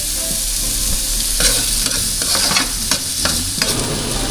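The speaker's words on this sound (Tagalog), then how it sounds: "Add na lang natin habang ginigisa natin yung ating bawang sibuyas" Garlic and onion sauté in margarine with a loud, close sizzle, broken by several sharp stirring scrapes and knocks against the pan. No voice is heard.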